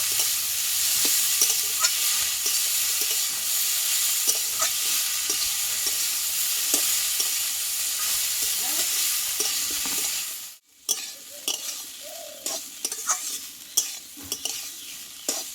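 Banana stem and papaya are stir-fried in a pan, a steady close sizzle with repeated scraping and knocking of the spatula, then a sudden brief drop before scattered stirring clatter resumes against quieter frying.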